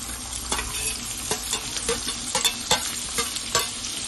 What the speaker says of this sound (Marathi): तेल गरम झालंय आणि मी त्यात कांदा टाकते